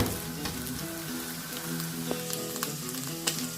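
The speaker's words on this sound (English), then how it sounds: "Then now I'm deep frying" Beef tongue deep frying in hot oil makes a steady, loud sizzle with crackling pops throughout, and no voices are heard.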